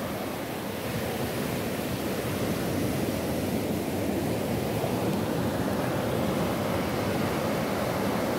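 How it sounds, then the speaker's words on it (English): Ocean surf rolling onto a beach at Big Bay, a steady broadband wash of breaking waves with some wind, continuous and fairly loud throughout with no talking. "waves and the ocean scenery and stuff by time."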